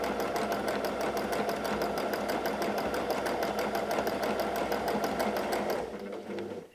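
A sewing machine runs steadily for about six seconds, stitching back and forth over the same spot while appliquéing a trapunto hedgehog, with a dense rapid needle rhythm that stops near the end.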